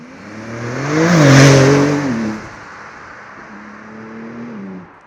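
A stock Porsche with an unmodified exhaust accelerates hard past on a road, its engine note climbing to a loud roar close by, then fading away, followed by a quieter, steady drone.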